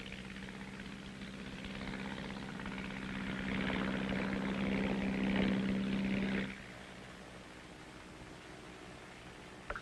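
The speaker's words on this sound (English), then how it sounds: "Today, these fire control planes are an important part of every artillery outfit." A propeller-driven artillery fire control plane drones overhead, its engine building louder for a few seconds with a steady low tone, then cutting off abruptly and leaving quieter background hum.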